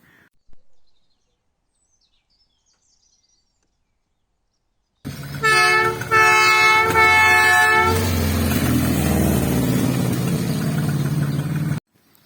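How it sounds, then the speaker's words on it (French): A Peugeot 106 car horn blares loudly and steadily for about three seconds after a long silence, then gives way to a broad, rushing noise that runs on until an abrupt cut. "le klaxon, etc."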